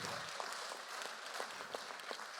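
An audience applauds an event organizer, a soft, distant patter of clapping hands that holds steady for a couple of seconds.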